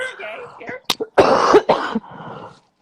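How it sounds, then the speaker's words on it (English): A few sharp coughs close to the microphone, in short bursts with a brief throat-clearing sound between them. "I don't know how to mute, and I have to cough, y'all."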